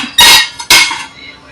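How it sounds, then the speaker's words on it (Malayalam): Two sharp metallic clanks of a metal preheating pot and ring being set in place for cake baking, each with a short ringing decay, close and loud. "എന്നിട്ട് നമ്മൾ പ്രീ ഹീറ്റ് ചെയ്യാനുള്ള പാത്രം വെച്ചു അതിൻ്റെ ഉള്ളിൽ ഇതുപോലുള്ള റിങ് റിങ് ഇറക്കി വെക്കുക"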